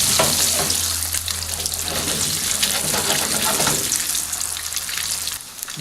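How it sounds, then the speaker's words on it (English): Eggs sizzling in hot, smoking oil in a pan for egg masala, a steady loud crackling fry with a low hum underneath, continuous and close throughout. "I'm going to wait for it to smoke a little, and then I'm going to put the eggs in"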